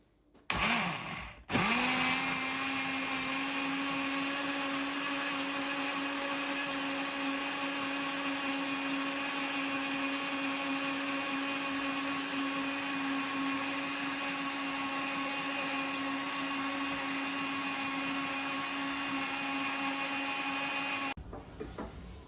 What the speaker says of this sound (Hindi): अब हम इनको ब्लेंड करेंगे।